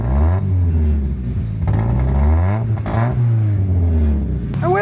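A Mazda Miata engine with a misfire revs up and down, its loud, close, rough drone rising and falling in pitch over a few seconds with an uneven, stumbling character and occasional clattering; no one talks.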